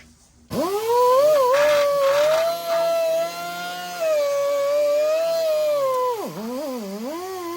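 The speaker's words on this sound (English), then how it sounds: "I'm just going through and cleaning off the paint that we just put on the frame" A pencil grinder fitted with a wire wheel cup strips fresh paint from a V8-swapped Ford Ranger frame, a loud, steady high whine that dips and wavers as the tool loads against the metal, running alone for several seconds.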